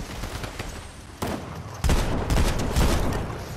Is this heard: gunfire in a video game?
yes